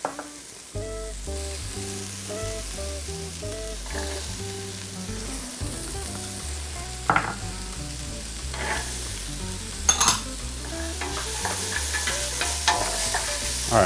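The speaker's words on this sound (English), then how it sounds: "All right, we're gonna saute that up for about 2 minutes." Celery and carrots sauté in a soup pot for orzo soup, a steady sizzle and crackle running throughout at close range, with scattered scraping stirs and a couple of sharper clacks near the middle and later; no one speaks.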